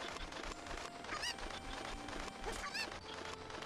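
Game chickens in The Legend of Zelda: Ocarina of Time give two brief, faint squawking clucks a second or so apart over quiet game background sound.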